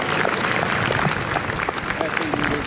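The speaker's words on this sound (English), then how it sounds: "an equally loud applause for Sergeant First Class Onus for that beautiful rendition of our national anthem." Loud, dense audience applause at a military observance ceremony honoring a national anthem singer, a steady crowd of clapping hands close by for a few seconds.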